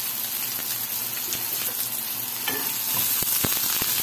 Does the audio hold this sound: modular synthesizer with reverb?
no